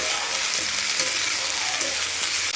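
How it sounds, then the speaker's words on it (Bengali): Vegetables sizzle and fry in a pan while being stirred, a loud continuous crackling hiss close by with faint scraping, no speech. "এইগুলোকে আমি এখন হালকাভাবে একটু নেড়ে চেড়ে নেব।"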